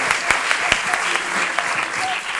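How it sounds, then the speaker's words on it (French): A crowd applauding steadily at an improv festival show in Paris, dense clapping throughout with a few sharper claps standing out, and a faint voice or whistle in the background. "je vais demander à tous ceux qui n'ont pas applaudi d'applaudir pour vous souhaiter la bienvenue"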